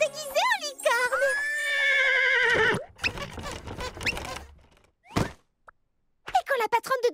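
A cartoon horse dressed as a unicorn gives a loud, close, wavering neigh lasting a couple of seconds, followed by thumps, squeaks and short cartoon effects with gaps of quiet.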